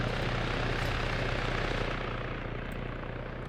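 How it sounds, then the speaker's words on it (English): An MH-6 Little Bird helicopter flies in the Arma military game, a steady, dense rotor and engine roar holding close and loud, then easing slightly as it moves off. "Little Bird's still flying around."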